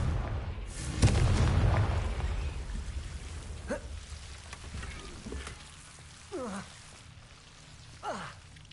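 A Confringo blasting spell in Hogwarts Legacy, a heavy fiery boom early on followed by rumbling debris and softer magical whooshes, fairly close and loud, with game voices faintly under it.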